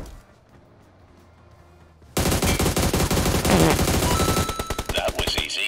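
Rapid automatic gunfire in a PUBG battle bursts in suddenly after a quiet stretch, loud close bursts of shots rattling on in dense strings.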